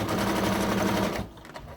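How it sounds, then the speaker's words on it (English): A sewing machine stitches steadily at close range for over a second, then abruptly stops, leaving a quiet room with faint handling noise. "I like to go all the way over with the sewing machine."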